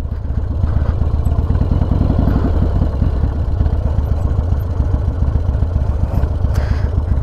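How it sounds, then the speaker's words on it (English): A Harley-Davidson Dyna motorcycle riding, a loud, close, rapidly pulsing low engine rumble with mechanical clatter that holds steady throughout, no speech. "we're riding the Harley Dyna"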